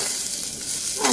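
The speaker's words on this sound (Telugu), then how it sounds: "ఒక ప్యాన్ తీసుకొని అందులో డ్రై ఫ్రూట్స్ వేయించుకోవాలి" Dry fruits fry in a hot pan while being stirred to keep them from burning, giving a steady close sizzle with a scraping stir that swells near the end.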